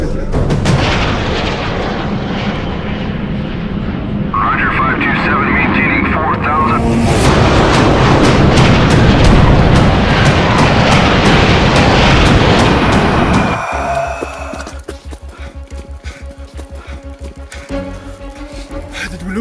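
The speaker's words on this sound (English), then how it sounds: "Jet fighters, we have code red." Loud roaring jet fighter passes overhead with heavy booming blasts and rumbling explosions in a zombie short film, the din swelling mid-clip then dropping sharply to a lower rumble near the end.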